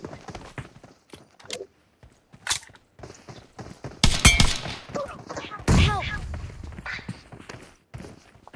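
Bursts of gunfire in an online shooter match (2v2 mode), with a few loud broadband shots and a cluster of rapid fire, mixed with players chattering in Marathi.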